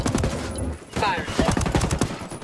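Gunfire in Ghost Recon Wildlands, a rapid volley of close, loud shots crackling in bursts across the clip with dense layered game sound behind.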